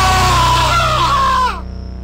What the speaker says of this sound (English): Was that the scream?